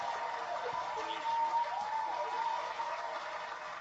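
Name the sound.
applause sound effect played in broadcast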